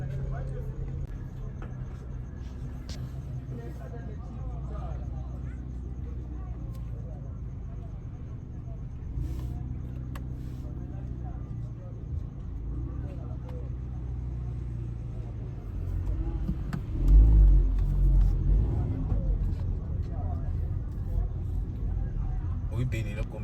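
A car driving through busy streets at night: a steady low engine and road rumble runs throughout, swelling louder near the end, with people talking inside the car over it.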